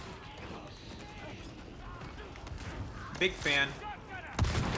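Impact grenades burst in the Darktide video game amid gunfire and clatter, with a couple of sharp, loud blasts near the end while someone talks over the action.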